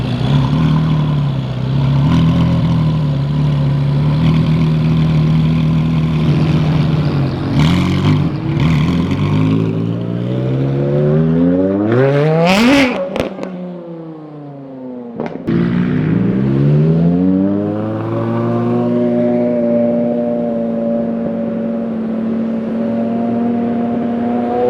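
A straight-piped Porsche Carrera GT on a city street: the engine idles with a deep burble, then snaps into a sharp, screaming rev, drops away and climbs again as the car accelerates off, loud and close.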